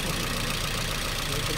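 A Toyota Vios with a 2NZ engine idling roughly, a steady broadband engine drone with low uneven pulsing that runs continuously and close by, with no speech over it.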